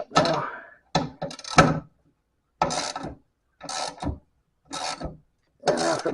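A wrench ratchets trailer slipper leaf spring bolts tight in short bursts of rapid clicking, with several separate pulls broken by brief silences.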